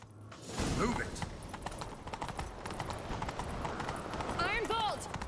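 Rapid hoofbeats of a galloping horse in The Witcher 3 pound steadily throughout, with a whinny and other game sounds layered over the clatter.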